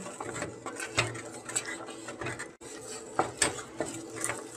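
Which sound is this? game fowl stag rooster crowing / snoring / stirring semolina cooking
stirring semolina cooking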